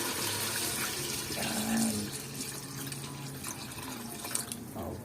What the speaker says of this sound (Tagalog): kaya lagyan na natin ng tubig